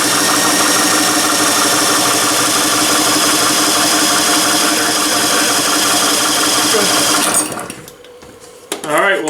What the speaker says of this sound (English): So we just finished timing the Gx200 motor.